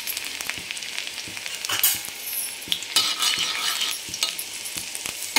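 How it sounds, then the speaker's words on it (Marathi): Garlic cloves frying in hot oil on an iron tawa, a steady close sizzle with a few sharp metallic taps and scrapes of a spoon, no voices. "तेल छान गरम झाल्यानंतर आपण लसूण टाकून घेणार आहे."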